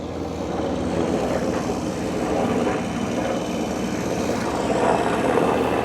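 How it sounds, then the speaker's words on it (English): A helicopter flies over a golf practice range, its steady rotor and engine drone holding constant and fairly loud throughout, with no talk. "Still a helicopter."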